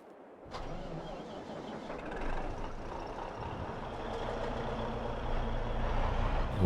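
A truck engine in Farming Simulator 22 starts abruptly after a moment of quiet, then runs as a steady, close mechanical rumble that swells slightly toward the end.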